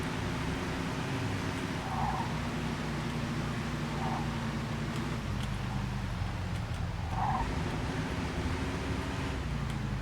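A car driving in the video game Mafia 2, a steady low engine drone with a slight shift in pitch partway through, under a faint hiss and a few soft knocks.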